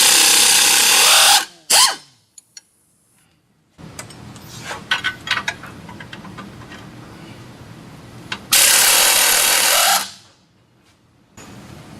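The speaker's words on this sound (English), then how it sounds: "to remove the rear shocks and get rid of those, use an 18 millimeter wrench and socket." A power tool with an 18 mm socket whirs in two loud bursts while removing rear shock bolts on a Jeep Wrangler, with clinks and rattling of parts and the socket between the bursts.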